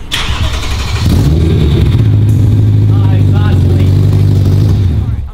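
A BMW E91 M3 engine with its exhaust disconnected and an expected exhaust leak starts up and settles into a loud, close, steady rumble, with people talking faintly over it.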